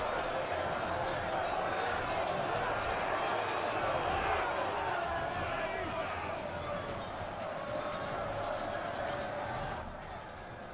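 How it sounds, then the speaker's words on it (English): Crowd cheering from a battle in a Total War fantasy game, a steady broad roar of massed voices that stays loud throughout and eases slightly near the end, with battlefield noise underneath. "And you'll see cheering."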